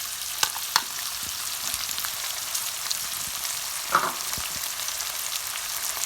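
Chilli chicken stir-fried in a pan over a continuously high flame, giving a steady, loud sizzle with a few sharp clicks and scrapes of the spatula scattered through it.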